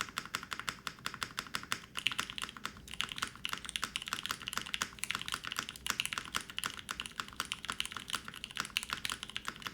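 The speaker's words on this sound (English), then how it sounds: "very deep sounding spacebar" Dense, steady typing on a Santoryu 65 mechanical keyboard fitted with Nixie switches, rapid close clicks and clacks running continuously with occasional deep spacebar thuds, no voices.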